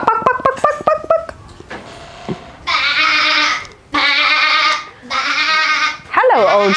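A voice imitates a sheep's bleat in several drawn-out, wavering calls following a quick series of short barking sounds, all close and loud in a children's farm-animal vocabulary lesson.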